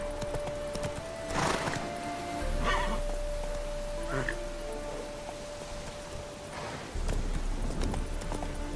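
Hooves of Roach, a horse in The Witcher video game, clip-clop in several bursts as it breaks into a gallop. A low rumble and game sounds sit between the hoofbeats, and a brief voice is heard.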